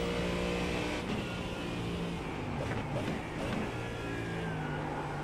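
Ferrari race car in iRacing, its engine holding a steady high-revving drone with sustained harmonic whine, fairly quiet and continuous with no talk.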